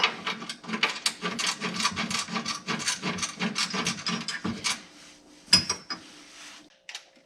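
Bolts being snugged down on a QA1 front coilover suspension install on a third-generation car, heard as a rapid run of close, rhythmic ratchet clicks and scraping, then a few scattered metallic knocks.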